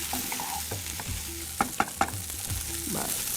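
Potatoes with chopped mint and coriander fry in a pan with a continuous sizzle, while a spoon stirs and scrapes through them and three quick knocks ring against the pan.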